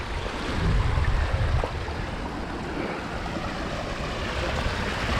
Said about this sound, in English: This would be from water on the other side, splashing up on the cliffs and then running down.